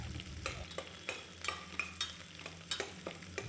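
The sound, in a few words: onion frying in oil with mustard seeds and spices in cooker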